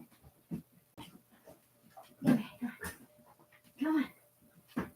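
A puppy whimpers and yips in short bursts, close by, with a few louder whines standing out between quieter rustling and breathing.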